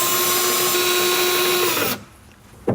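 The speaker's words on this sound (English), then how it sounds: "Drill it into position." A power drill whirs steadily at close range for about two seconds, driving into a cabinet, its pitch sliding down as it winds off, followed by quiet and a brief clack.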